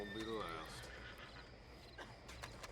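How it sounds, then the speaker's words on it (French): A horse in the video game Red Dead Redemption 2 whinnies once, a shaky descending neigh near the start, followed by soft background noise. "Appelle son cheval."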